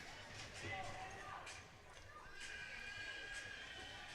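A bucking horse in a rodeo bronc riding event at a large high school rodeo arena whinnies faintly amid distant arena noise and crowd murmur, heard from a distance and quietly.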